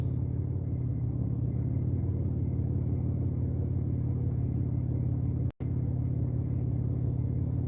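A car moves along close by on the driver's left during a drive toward a major interstate, its steady road rumble and tyre hum continuous and fairly loud, with a brief dropout near the end.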